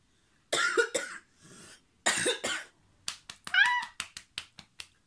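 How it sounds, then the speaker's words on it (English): A woman coughing several times nearby: a couple of harsh, throaty coughs, then a run of shorter dry hacks and throat-clearing in uneven bursts, with no talk. "I started speaking about toxic men and I started coughing."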